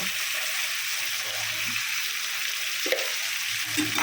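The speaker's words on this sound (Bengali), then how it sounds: "এখন সেম প্যানে আমি আলুগুলো ভেজে নেব" Potatoes frying in a pan with turmeric and salt, a steady close sizzle running throughout with occasional faint stirring clicks.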